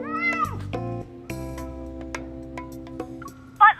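Cats meow in the Love and Deepspace game, several close, clear meows in quick succession with rising and falling pitch, ending on a sharp high cry.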